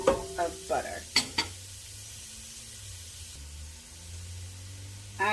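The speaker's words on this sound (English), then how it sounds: "And we're just going to give those a quick stir." Garlic and butter sizzle in a pot under several quick stirring clatters and knocks at the start. A low, steady frying hiss continues afterward, with another clink near the end.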